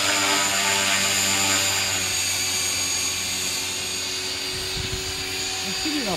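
A T-REX 500 radio-controlled electric helicopter flies with a loud, steady high-pitched rotor and motor whine, close and continuous, while people talk over it.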